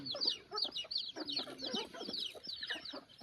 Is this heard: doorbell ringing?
no